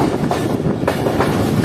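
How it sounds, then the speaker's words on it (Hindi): A passenger train runs steadily along the railway line past a station without stopping in rain, a continuous close rumble with clickety-clack wheel rhythm and no voices. "लगातार ट्रेन शादराबाद से निकलने के बाद चलती ही जा रही है।"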